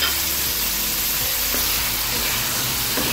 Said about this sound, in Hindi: अब इसमें कीमा डालते हैं, इसको हम अच्छे से फ्राई करेंगे